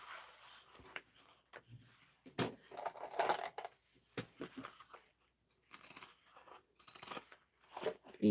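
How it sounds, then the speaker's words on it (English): Pinking shears snipping fabric around a curved seam, a string of quiet, irregular crunchy cuts with short pauses between them, close by and fairly faint. "Using pinking shears just around the curve area so that way it sits pretty and not bulky."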